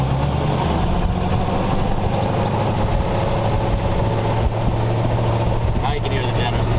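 A 1932 roadster's engine runs steadily while driving, with a low, continuous rumble close by and people talking over it.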